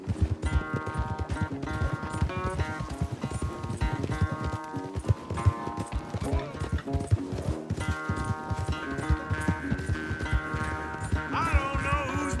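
A horse gallops in a race in the video game Red Dead Redemption 2, its fast, steady hoofbeats running throughout under loud, continuous music.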